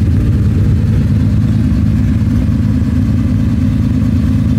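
A Nissan Skyline Kenmeri in R-spec trim rumbles through its exhaust muffler, a loud, close, deep and steady engine drone that holds a constant pulsing idle with no talk over it.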